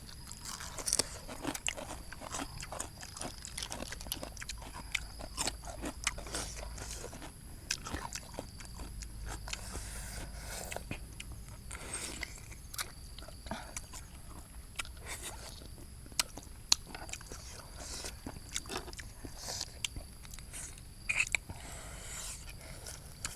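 Close, wet crunching and biting from someone eating spicy Lao-style papaya salad with cockles, a steady run of chews and crisp crunches throughout with no talking.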